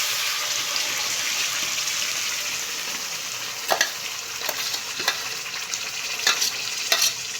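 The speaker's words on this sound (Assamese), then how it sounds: "পনীৰ ভাজি লোৱা তেলখিনিতে আমি এতিয়া পিহি লোৱা বস্তুখিনি দি দিম।" Ground spice paste sizzles hard in the hot oil left from frying paneer for palak paneer, a bright steady crackle with a few sharper spatters near the end.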